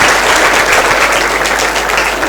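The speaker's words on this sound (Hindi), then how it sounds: "जोरदार तालियां" An audience breaks into strong applause during a quiz session, a dense, loud, even wash of clapping filling the whole short stretch.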